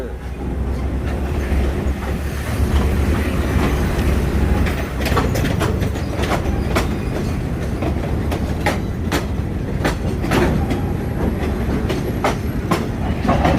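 A train pulls into platform one at Bang Sue station in Bangkok, with a steady heavy rumble and repeated sharp rail clicks and clanks over about fourteen seconds, loud and close throughout.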